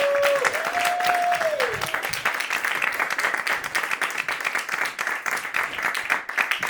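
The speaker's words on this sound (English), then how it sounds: "So start clapping right now for Joshua Lampley." Audience at a roast battle comedy show breaks into sustained applause and clapping, a dense, steady wash of hands from a crowd filling the room, with a brief whistle near the start.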